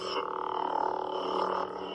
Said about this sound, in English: Get Vader's sound font